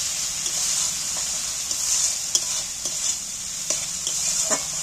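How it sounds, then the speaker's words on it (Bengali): Spice paste with chilli paste, onion and tomato frying in oil, a steady close sizzle with scattered scraping stirs and occasional spoon knocks, no voices. "এইবার আমি ভালো করে মশলাটাকে ভেজে নেব"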